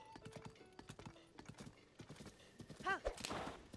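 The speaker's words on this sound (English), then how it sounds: "I'm not very good at riding a horse, though." Steady clip-clopping hooves with a horse whinnying near the end, set against game sounds and a faint voice, from riding a horse in The Legend of Zelda: Tears of the Kingdom.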